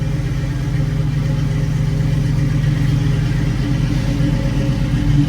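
A 1966 Ford Mustang engine runs steadily at idle after sitting about a year on old gas, a continuous close, loud low rumble with an even pulsing beat throughout.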